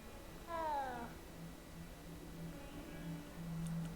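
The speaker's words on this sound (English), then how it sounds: "Johnny, I'm petting the cat." A cat in Hogwarts Legacy gives a single short meow early on, then a quiet steady background hum continues with no talk.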